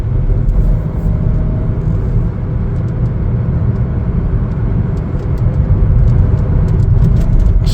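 Chevrolet Trax Activ being driven, a loud steady low engine and road rumble heard from inside the cabin with no talking.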